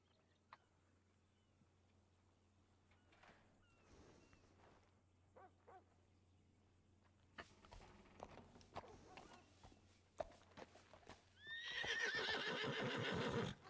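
A horse in a ranch setting gives a loud, shaky whinny near the end after quiet stretches of scattered hoof clops and small movements, with the whinny standing out sharply against faint background noise.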